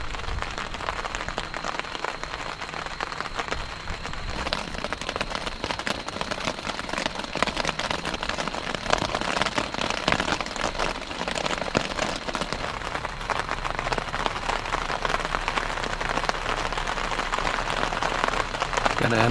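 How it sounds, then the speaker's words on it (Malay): Steady rain patters continuously on a surface at a highland campsite in Lojing, Cameron Highlands, a dense, even hiss of drops close by that lasts throughout. "Keadaan masih lagi hujan."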